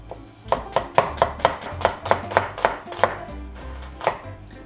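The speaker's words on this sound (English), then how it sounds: "Peel, cut it in half and then slice thinly." A knife slices an onion thinly on a cutting board, about a dozen crisp, evenly spaced chopping taps close up, with no talking.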